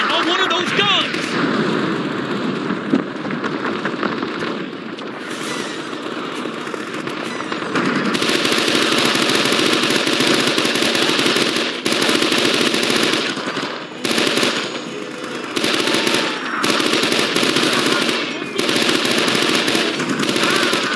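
Machine guns fire in the war shooter game Men of Valor: loud, rapid, sustained bursts that rattle on and off, with short pauses between volleys and a near, harsh clatter throughout.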